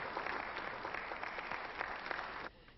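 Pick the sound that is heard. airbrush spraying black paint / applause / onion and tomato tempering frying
applause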